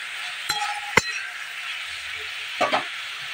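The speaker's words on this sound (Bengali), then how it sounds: "আর একই সঙ্গে কেটে রাখা টমেটোগুলো কষানাটা দিয়ে দেবো।" Chopped tomatoes sauté in a pan under a soft, constant sizzle, with a few sharp spatula clinks against the pan, two early and a pair near the end.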